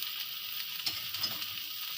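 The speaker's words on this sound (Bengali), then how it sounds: "এতে সেমাইটা দিয়ে ভালো করে ভেজে নেব।" Vermicelli frying in ghee gives a faint, even hiss with a couple of soft stirring taps, close by and without voices.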